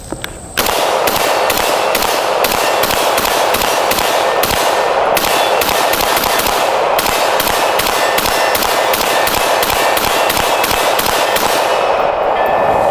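Rapid suppressed fire from a Springfield Hellion rifle, a long unbroken string of sharp, loud, evenly spaced shots that runs for several seconds, with no voices.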